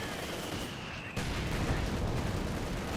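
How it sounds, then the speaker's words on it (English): Machine gun fire rakes infantry in Company of Heroes 2, starting abruptly and carrying on as a dense, sustained rattle of battle noise, loud and close. "Machine gun fire raking them down."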